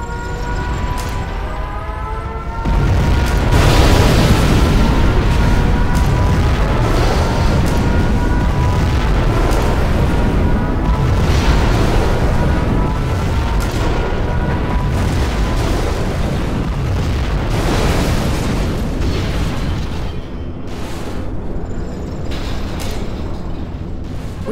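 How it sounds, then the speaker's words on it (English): Nuclear missile explosions in the real-time strategy game Command & Conquer Generals Zero Hour: a loud, sustained, rumbling roar of blasts lasting over twenty seconds, with a faint siren-like tone early on. "We have launched our nuclear missile."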